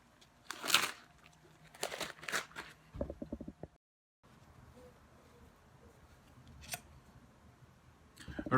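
Scissors snipping close by during a GoPro magnetic mount build, several sharp bursts of cutting and crinkling early on, a quick run of rapid clicks, then quieter handling sounds and a few later snips.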